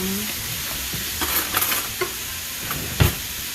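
Minced garlic sizzles in a pan while a utensil stirs it, with quiet frying hiss and several sharp scrapes and clacks, one louder knock near the end.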